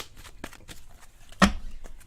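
A deck of tarot cards is shuffled by hand, giving a soft run of light riffling taps and then one sharper slap of the cards, close and fairly quiet, with no talk.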